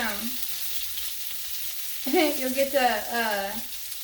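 Breaded shrimp frying in oil and being stirred, a soft continuous sizzle under a voice talking close by.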